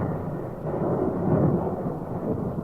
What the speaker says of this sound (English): Rip began to hear a low rumble, almost like thunder